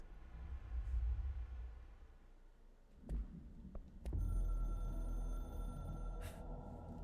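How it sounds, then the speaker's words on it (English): In the video game Control, a hotline telephone rings with a sustained electronic tone that enters partway through, over a low, throbbing, pulse-like hum and eerie ambience. "Hotline ringing in my dreams, constantly ringing"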